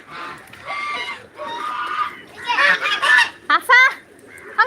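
Ducks quacking loudly and close by, a run of harsh, nasal calls in quick bursts, some overlapping.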